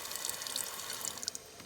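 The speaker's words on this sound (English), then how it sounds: "as you can see, our water is running." A faucet runs at a low, barely-open trickle on a cold morning, giving a faint, steady splashing stream with a few small drips, heard alone without talk.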